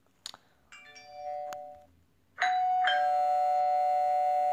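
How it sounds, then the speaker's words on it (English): A Minecraft PE furniture mod doorbell in a video game sounds after a couple of soft clicks: a short tonal chime, then a louder two-note ding-dong that rings out and holds clearly to the end. "Then we got the doorbell"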